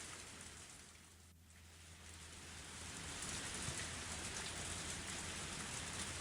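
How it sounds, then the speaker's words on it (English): Pouring rain in the Higurashi visual novel: a soft, steady wash of rainfall with no other sounds, dipping briefly and then swelling slightly louder. "Only the sound of the pouring rain filled up the silence."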